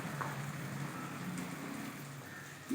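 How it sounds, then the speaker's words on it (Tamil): Spices for an egg masala gravy fry in hot oil, giving a faint, soft, continuous crackling sizzle with a small pop near the end. "அந்த எண்ணெயிலே போட்டு முட்டை மசாலான்றதால மசாலாவை நல்லா இதிலே ஃப்ரை பண்ணி வறுத்துக்கணும்"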